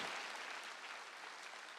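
A church congregation claps during a Wednesday worship service, dense steady applause from many hands filling the room at an even level throughout.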